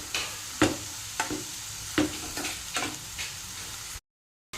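Banana flower frying and being stirred in a pan, salted with no water added, giving a steady sizzle broken by a series of sharp scraping clicks from the stirring, close and alone.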